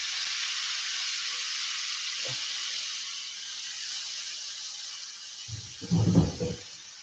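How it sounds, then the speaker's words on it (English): Bright, continuous sizzle of ground beef frying in a hot pan, steady throughout, with a couple of brief clunks and scrapes near the end. "and you're gonna hear a nice little sizzle."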